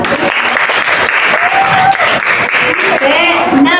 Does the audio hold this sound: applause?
yes